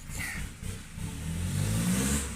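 A Kubota DC70G combine harvester's mid-pitched engine hums and rises steadily, revving up over a couple of seconds, fairly close, with no voices.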